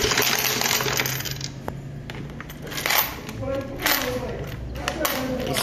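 Coins drop and clink in an arcade coin-pusher machine several times, with scattered metallic taps and thuds against the machine's steady noise while a person talks throughout.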